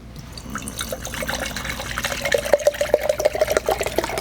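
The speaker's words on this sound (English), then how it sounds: "Let me just put some water in the old wind burner here." Water poured into the pot of a wind burner camping stove, starting as a faint trickle and building into a steady, rising pour with a gurgling, filling tone over a few seconds.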